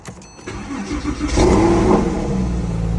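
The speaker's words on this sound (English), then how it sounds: "Let's turn this thing over, and hopefully she'll turn right on." A Porsche 911 of the 997 generation starts after a battery replacement: a brief starter crank quickly catches into a loud revving flat-six that settles into a steady close idle.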